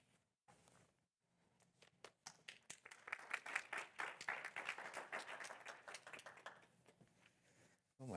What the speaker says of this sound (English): already an applause.